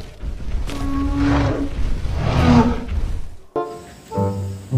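A stegosaurus roars in an animal-washing video game, giving two deep, rumbling growls in a row, then a burst of bright game chimes.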